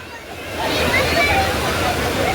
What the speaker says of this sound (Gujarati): અહીંયા દેકારો હોય, પાણીનો અવાજ હોય